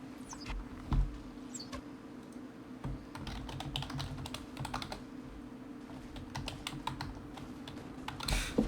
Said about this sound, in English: Sorry, I was just typing there.